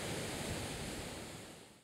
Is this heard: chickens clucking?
no